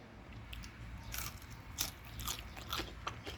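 Crispy fried Thai pork belly is bitten and chewed, making several quick, faint, close crunches spread over a few seconds with no talk.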